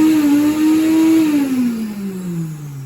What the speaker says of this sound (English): if I turn it on and the vacuum on, anytime I want to use my micro tool